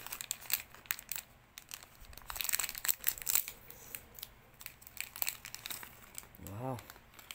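Packaging of a Nevoks Bar 19K-puff vape crinkles and rustles in close, irregular bursts throughout, with a person talking over it and a brief louder tearing crunch near the end.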